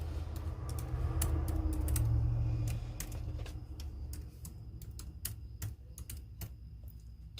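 Fingers type on a computer keyboard in a quiet room, with a quick, uneven string of light clicks close to the microphone and short pauses between bursts.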